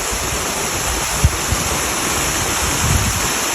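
Man-made waterfall at the Eagle Rock fountain in Idaho, a steady broadband rush of falling water heard close and continuous, with a few faint low thumps and no talking.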